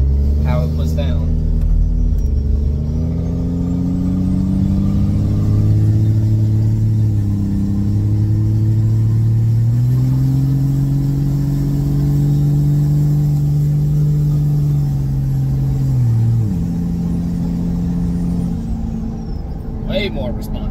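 A warmed-up Cummins diesel pickup truck engine pulls steadily on a test drive after new injectors, a deep droning rumble rising and holding through the run with a shift-like dip near the end, heard from inside the cab.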